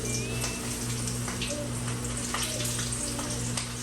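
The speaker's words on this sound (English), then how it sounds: "Let's get these wings in this grease." Chicken wings frying in a pan of grease give a continuous close crackling sizzle at moderate level, with a low steady hum underneath and no talking.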